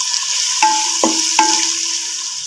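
Onions and chillies sautéing for a chana and potato pulao, a soft sizzle broken by a few sharp clanks of a spoon against the pan and a ringing metallic tone, close, with no speech.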